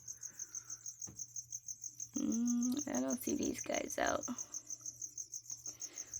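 Crickets in a pet enclosure at night chirp in a rapid, even pulsing trill that runs throughout, clear and near, while a person talks over the middle of it.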